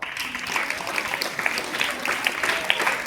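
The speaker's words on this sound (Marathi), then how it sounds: "नेहा मोरेसाठी एका टाळ्या वाजवा." An audience claps for a student at a school felicitation event during disability week. The applause is a continuous, moderately loud patter of many hands, fairly distant and steady throughout.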